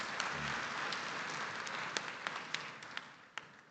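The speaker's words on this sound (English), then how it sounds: "A round of applause again as he..." An audience at a formal ceremony honouring the President of the United Arab Emirates applauds, a faint, thin patter of scattered hand claps heard from a distance that slowly fades away.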